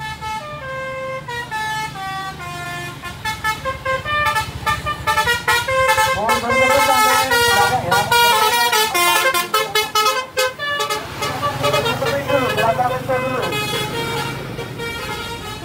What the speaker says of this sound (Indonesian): kali ini ada bus Bristran teman-teman